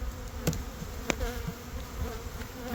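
Honey bees buzz steadily in an opened spring hive during colony management, a dense close-up hum with a few brief louder passes of individual bees near the frames, and no talk.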